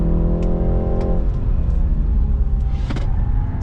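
A 2020 BMW 330i G20 accelerating hard, with a loud, close engine rumble that rises in pitch before easing back into a steady drone.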